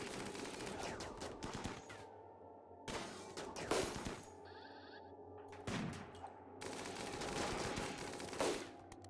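Shotgun blasts crack out in RimWorld, a few loud bursts of gunfire spaced a couple of seconds apart over a constant low background hum.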